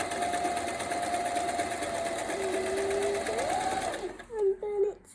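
A Hobbycraft sewing machine sews zigzag stitches with a steady, close, buzzing hum that shifts pitch partway through, then stops abruptly, after which voices speak.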